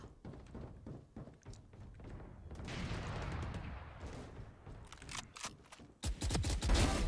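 Gunshots in the video game Valorant crack in scattered bursts, some single taps and some quick strings, with a louder close burst near the end, amid game noise.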